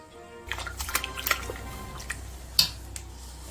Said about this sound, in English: time to give it a bit of a stir for a whirlpool.